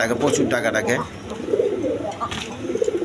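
Coloured pigeons kept in pairs with eggs and chicks coo in low, repeated bursts close by, with voices talking throughout.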